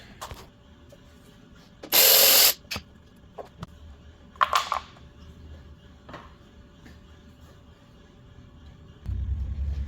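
Tools work on the timing covers and 10mm bolts of a 2005 Acura MDX 3.5L, with a brief loud burst of a power tool, scattered metallic clicks and rubs, and a low rumble rising at the end.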